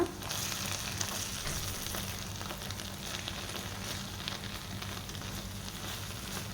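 Kashmiri chili powder stirred into a hot pan of frying spaghetti mixture, a continuous close sizzle with faint scraping from the stirring.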